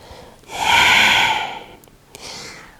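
A single deep breath during a morning exercise routine, a strong close breathy inhale or exhale lasting about a second, followed by a short quieter breath, with no talking.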